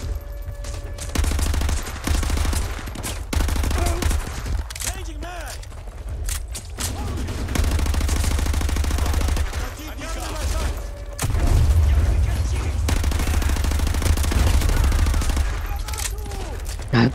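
Gunfire in Call of Duty Modern Warfare 2 Remastered, steady battle noise with repeated shots and booms running throughout, under frequent talk from a player.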